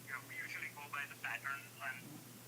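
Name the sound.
telephone on speakerphone during call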